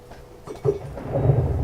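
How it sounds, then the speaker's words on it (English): Rain and a low rumble of thunder in a Minecraft survival world, a soft steady rainfall with a muffled roll of thunder swelling midway, brief and without talk. "it's raining"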